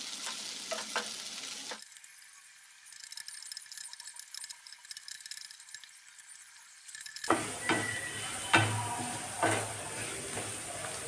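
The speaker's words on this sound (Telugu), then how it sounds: "ఆయిల్ వేడైన తర్వాత ఇలా కొన్ని కార్న్ తీసుకుని విడివిడిగా ఇలా వేసేసుకోవాలి." Sweet corn kernels dropped into hot oil and stirred while frying, a bright crackling sizzle broken by a quieter stretch, then louder bubbling with rhythmic scraping strokes of a spoon.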